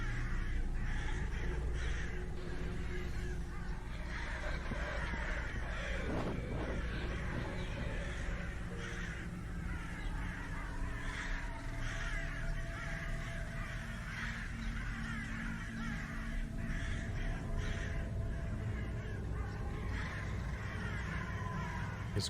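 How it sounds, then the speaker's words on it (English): Crows caw repeatedly and steadily against a constant ambient backdrop in a spooky Halloween setting, the calls coming one after another at a moderate distance with no talking. "These crows are kind of starting to get on my nerves"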